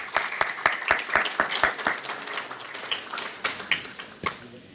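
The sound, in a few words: applause welcoming the chief guest at a temple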